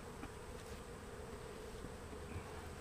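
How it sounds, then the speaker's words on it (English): A steady, dense buzz of many honeybees swarming close by around an open hive, continuous and even throughout with no talking. "His bees are calm."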